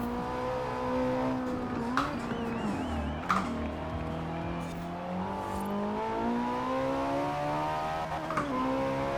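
Ferrari 458 Italia engine in Forza Horizon 4 pulls hard at high revs in seventh gear, a loud sustained V8 wail rising steadily with brief shift blips around two and three seconds and near the end.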